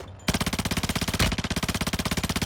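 Sustained automatic weapon fire in the mobile shooter Warzone Mobile, a loud, close, steady rapid rhythm of evenly spaced shots with one heavier blast midway.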